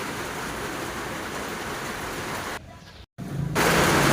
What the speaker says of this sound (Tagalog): So grabe, ang lakas ng ulan